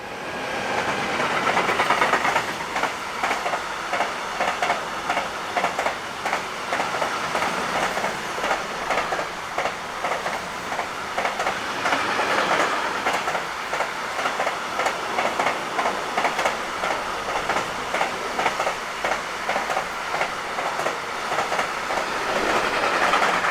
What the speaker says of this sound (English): Freight train number 41713 from Rotterdam to Frankfurt-Oder has 186233 in charge.